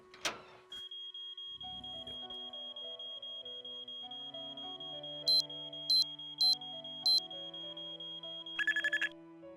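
An alarm rings in the Nancy Drew video game Treasure in the Royal Tower: a steady high electronic tone runs over a soft synth music bed, with four short bright pulses and then a quick rapid trill at the end.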